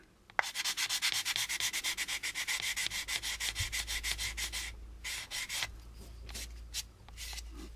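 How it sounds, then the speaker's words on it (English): Rapid, rhythmic back-and-forth sanding strokes scrape a plastic part from an AMT U.S.S. Enterprise model kit, loud and close, with short pauses between bursts near the end. "Now this will sand down in preparation of the filler"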